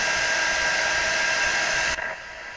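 A hair dryer blows steadily and loudly over a wet acrylic paint pour, then cuts off near the end, leaving a faint tail of room noise.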